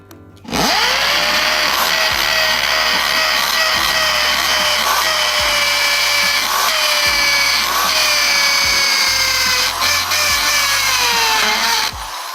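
A loud electric impact drill, a Vitals Professional model with hammer function, runs almost nonstop with a high, strained whine and a rattling hammer-like buzz. It briefly dips and revs again a few times.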